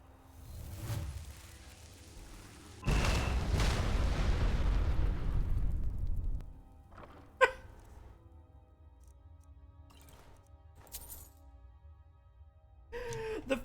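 A Detonate Lock spell, a two-handed spell cast in modded Skyrim Special Edition, goes off as a sudden loud blast. A long rumbling roar fades over several seconds, followed by a few faint sharp clicks in a quiet scene.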